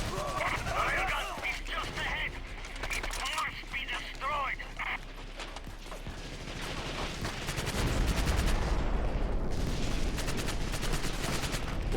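PPSh submachine gun fire in the video game Medal of Honor European Assault, with rapid bursts and rattling volleys of shots among other game noise that builds heavier toward the end.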